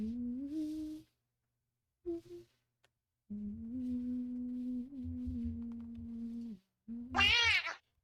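Cat meow alert sound on a livestream, a series of tonal meows in separate bursts with short silences between, ending in a brighter, higher-pitched yowl.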